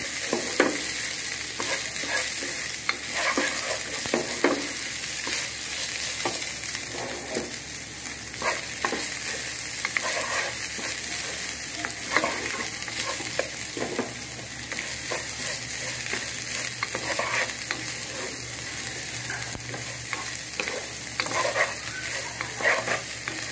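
Food frying and being stirred in a pan while it is sautéed well, with steady close sizzling and repeated scraping, clinking strokes of a spatula throughout, no talking.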